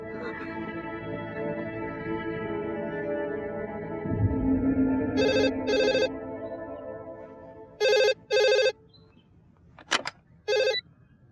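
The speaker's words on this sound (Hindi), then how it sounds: "ओफो प्रेरणा, कब से फोन कर रही हूँ, उठाती क्यों नहीं?" A phone rings in bright electronic bursts, paired double rings repeating after a low humming stretch, with a short clatter between rings.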